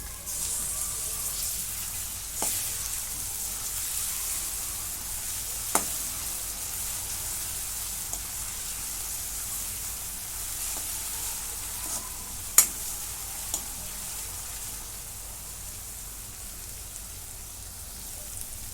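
A chili and garlic paste roasting in a pan for a bottle gourd (dudhi bhopla) dish gives a steady, close hiss of frying, with a few sharp clicks or taps scattered over it.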